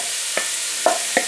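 Bacon frying in a little oil in a pan, a dense, even hiss of sizzling fat with three brief clicks of a utensil against the pan, close up.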